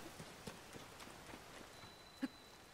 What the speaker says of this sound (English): Boy, it's still raining.